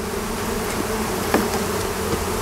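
Local honeybees from a wild swarm being housed in a hive hum steadily in a close, continuous buzz, with a few louder individual passes.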